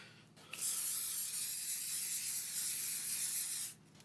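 A can of lubricant sprayed onto an old rusty axe head, one continuous loud hissing burst of about three seconds, close up, with quiet before and after.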